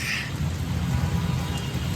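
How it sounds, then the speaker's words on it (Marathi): Steady heavy rain pours down in a dense, continuous hiss with a low rumbling undertone, no voices present. "आज एकदम जबरदस्त पाऊस येतो"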